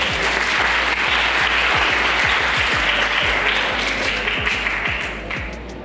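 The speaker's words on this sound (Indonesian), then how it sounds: "Tepuk tangan dong buat mereka semua." Dense applause from an audience at a Linux community event in Jakarta, loud and steady throughout with sharp individual claps poking through, tapering slightly at the end.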